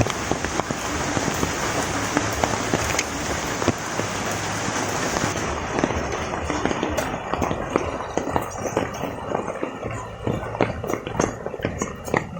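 Steady heavy mountain rain pours down, a dense continuous hiss with scattered louder drops pattering on surfaces close by, no voices.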